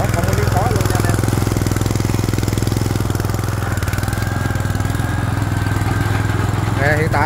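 A Kawasaki FG200 rubber-track carrier with a hand-dump bed, engine running steadily and loudly in reverse gear, a continuous close mechanical drone with rapid pulsing throughout.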